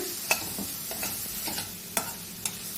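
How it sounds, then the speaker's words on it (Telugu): Spices and turmeric fry in a pan for a stuffed potato dish, a soft steady sizzle with a handful of light, evenly spaced scrapes from stirring, and nobody speaking. "ఇవన్నీ బాగా కలుపుకొని ఒక 2 నిమిషాలు కలిపితే చాలండి ఇలాగా"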